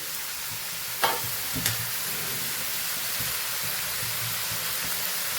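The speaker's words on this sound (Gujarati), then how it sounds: "એકદમ સરસ સાતડીને એક જ મિનિટ આપણે સંભારાને પકાવવાનું છે" Raw-and-cooked carrot, cabbage and tomato sambharo cooks in a pan with a steady soft sizzle and hiss, broken by a couple of brief stirring clatters near the start, with no voices.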